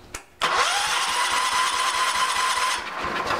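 A rebuilt Kohler engine cranks with a short sound and then catches, roaring up loudly and settling into a steady close running drone.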